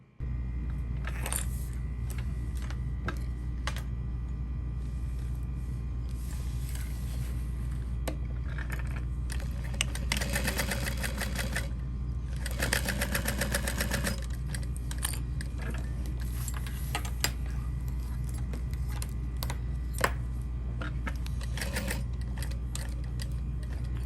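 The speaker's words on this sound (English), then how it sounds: "So we're going to sew a box stitch around all of these to help reinforce it." A sewing machine stitches a reinforcing box stitch on a small parachute knapsack, with a steady motor hum and rapid needle chatter in several longer runs separated by short pauses.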